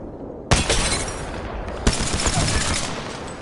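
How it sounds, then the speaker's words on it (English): Two sharp, loud Kraber sniper rifle shots in Apex Legends, about a second and a half apart, each a sudden crack that rings out into a decaying rumble of the bullet striking the ground. "That's where the noise of the bullet hitting in the ground from the Kraber is really satisfying."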